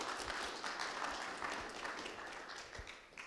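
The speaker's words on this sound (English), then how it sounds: "You want to give him a round of applause?" Applause from the audience at a Linux conference talk, a soft, fairly distant patter of clapping that holds steady throughout, with a few louder hand claps near the front.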